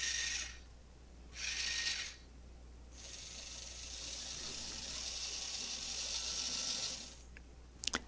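Steering and drive motors on a small robot run under computer control, with whining motor bursts that shift in pitch, short back-and-forth pulses followed by a longer sustained run, then a few faint clicks; no one speaks.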